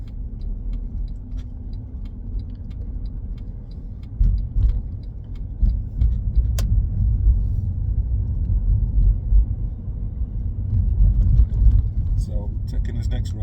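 A car driven left around a roundabout on a road drive, a steady low engine and road rumble continuing close and loud throughout, with small rattles and ticks from inside the cabin.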